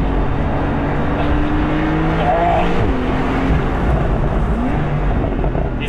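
A Porsche 911 Carrera GTS of the 991.2 generation drives on a road, its engine a steady loud drone throughout with shifting tones and no break, heard from inside or close to the car.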